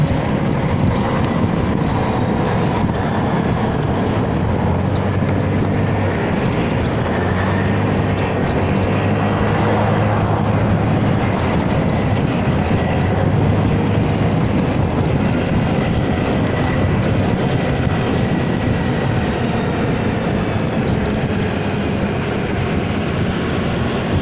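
A Honda Forza 300 scooter rides at high speed on an open road, a steady loud engine drone under heavy wind rush that fills the whole stretch without talk.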